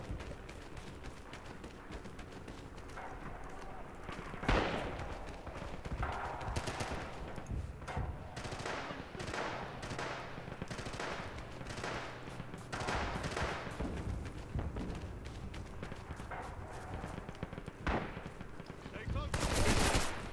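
Gunfire fills a battle in the video game Rising Storm around a Japanese light mortar, with scattered sharp reports and bursts, several louder nearby shots, and a dense exchange building at the end.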